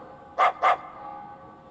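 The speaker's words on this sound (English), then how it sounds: "Hey, isn't this Rita's dog?" A dog barks twice in quick succession in the video game Sword of the Berserk: Guts' Rage, two short clear yaps close by over a low steady ambient hum, with no talking.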